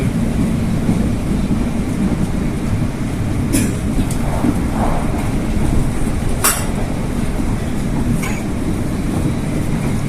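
A ride aboard a Chinese-built commuter train from Duren Kalibata station toward Bogor, with a loud, constant low rumble of wheels and car body and a few sharp high squeals or clicks.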